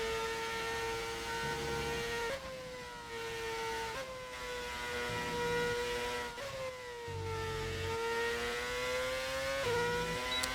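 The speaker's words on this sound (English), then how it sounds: "we brought the engine sounds back. This time a V8 though" A simulated V8 Formula 1 engine from a modded F1 racing game at Great Britain, revving high and steady with repeated upshifts, each gear change briefly dropping the pitch before it climbs again, loud and continuous with no talk.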